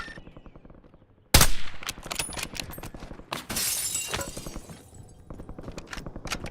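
Loud, rapid bursts of automatic gunfire in a first-person shooter video game, with sharp shots and shattering impacts crowding together near the listener, rising after a sudden loud blast and continuing in fast rattling volleys.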